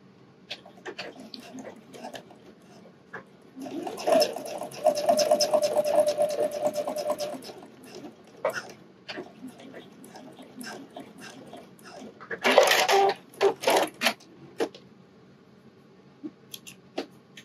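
A sewing machine stitches a wireless bra near a hook-and-eye edge with the needle set far left, running in two loud bursts, a long steady run and a shorter one later, with quiet handling noises between.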